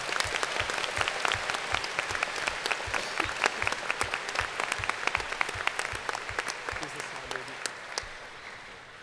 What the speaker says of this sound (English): Let's have a round of applause for both teams before we get started.